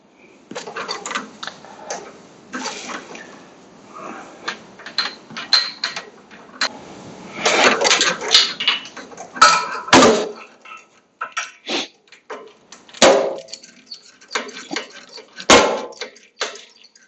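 A spark plug is tightened on a Craftsman 18.5 HP Briggs lawn tractor: a close, dry run of metallic ratchet clicks and small creaks comes in uneven bursts with short pauses.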